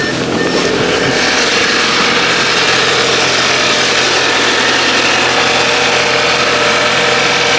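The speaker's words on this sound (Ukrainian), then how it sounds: "Є, машина заведена" An Audi A4 B8 car engine idles close and steady, a continuous low rumble with constant vibration and no other sounds.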